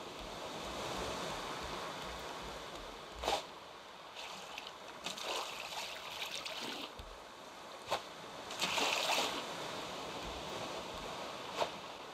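Rough ocean waves in the video game Raft wash and slosh softly at a low level, with scattered splashes and brief louder surges over a faint watery background.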